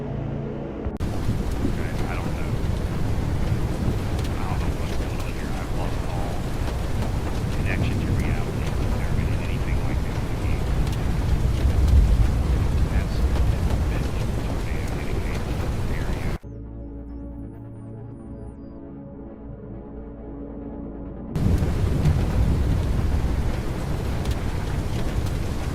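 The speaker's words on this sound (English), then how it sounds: "Another storm has formed to the south of this tornado" Heavy rain and rolling thunder from a Roblox Twisted thunderstorm near a tornado, a dense steady roar that drops to a quieter tonal lull before surging back loud.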